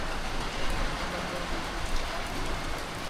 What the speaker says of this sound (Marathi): आठ वाजले तरी पाऊस जाईना